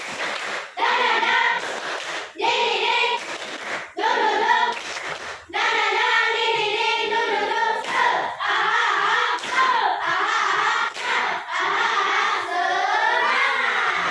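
Children perform a rhythmic Indonesian spirit clap (tepuk semangat), with patterned bursts of hand claps and thumps alongside loud, sing-song group chanting that repeats in short phrases and then runs into a longer stretch.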